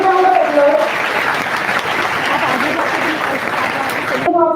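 An audience at an engineering college student induction program breaks into loud, steady applause. A voice is heard briefly at the start and again at the very end.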